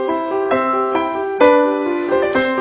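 A 9-year-old child plays a short piano passage, a few connected notes with clear strikes and a louder accent midway, with no voices over it.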